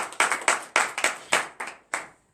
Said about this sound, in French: Donnez l'acclamation à Christ.